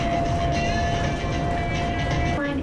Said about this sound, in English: In the morning, we went to the MGM Grand monorail station